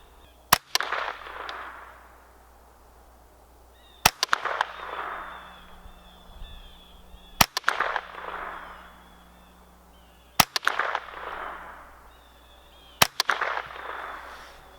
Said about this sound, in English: Take the safety off, and we'll take a shot at that 50-yard target there and see how it does.